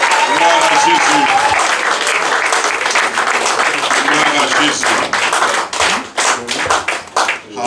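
A church congregation at an ordination service claps and cheers loudly, with dense applause and raised voices up close, thinning into scattered individual claps near the end.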